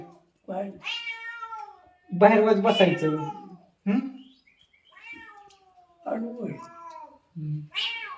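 A cat meows several times, loud and close, alternating with a person talking nearby.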